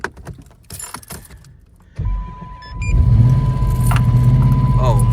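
A car with a twin-turbo 5.7 engine starting after refuelling: keys jingle, the starter cranks briefly, then the engine catches and settles into a loud, steady idle up close.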